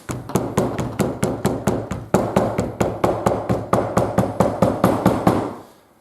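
A hammer taps on leather while a raised belt is being made: about sixteen sharp, evenly spaced strikes, close and fairly loud, with no talking, fading away at the end.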